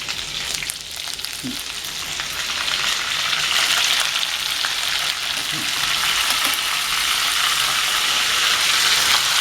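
Ginger and curry leaves frying in hot oil for a dal tempering, a steady close sizzle and crackle with a few soft pops, loud and continuous without any talk.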